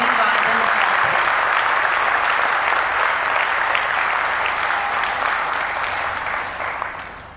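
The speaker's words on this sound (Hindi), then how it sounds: "जोरदार तालियां बजाकर हार्दिक स्वागत, अभिनंदन, अभिवादन करते हैं।" Loud, sustained applause from an audience at a Brahma Kumaris class gathering in a banquet hall, dense and continuous, tapering slightly toward the end.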